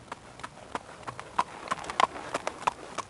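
Hooves of eight horses drawing a golden chariot clip-clop in a loose, uneven rhythm, sharp close knocks standing out over a faint background.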